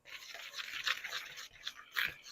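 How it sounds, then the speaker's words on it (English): A whisk stirs dry ingredients in a bowl for waffle batter, making a light, rapid scratchy swishing that comes in quick uneven strokes, close and fairly quiet. "we will give it just a little whisk."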